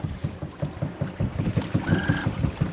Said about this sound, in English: Hear that knocking?